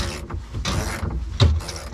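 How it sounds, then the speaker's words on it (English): Ratchet wrench turning a bolt on a race car build, giving several close clicking, grinding mechanical strokes in uneven rhythm with a heavier clunk near the end. "push in hard with your one hand towards the bolt head on the ratchet and push down with the other"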